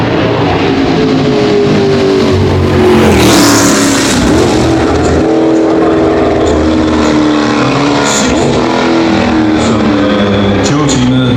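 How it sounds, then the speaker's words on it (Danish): Classic non-turbo race cars from the early-1970s era scream past in a loud, continuous exhaust roar, engines revving and shifting pitch as they pass close by, with a commentator talking over the din. "Der er ingen turbobiler i det her felt, og turboerne dæmper jo udstødningslyden en lille smule."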